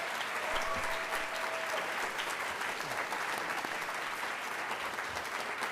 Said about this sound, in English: one more round of applause for all of our student performers today